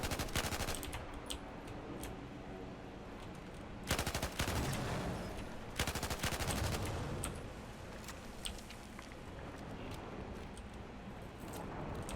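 A light machine gun firing on a Battlefield 4 test range in long sustained automatic bursts, dense rapid rattling with a couple of sharper louder onsets partway through, heard alone without talk.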